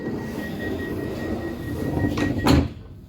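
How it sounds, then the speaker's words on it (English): Doors on a Southeastern Class 376 electric train slide shut with a short rising whoosh and a firm thud at the end, heard close up inside the carriage over a steady background hum. "And this is how the doors closed."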